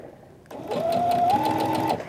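Sewing machine stitching a hairline seam in sheer fabric starts abruptly and whirs steadily for about a second and a half, its motor pitch stepping up slightly mid-run, close and alone.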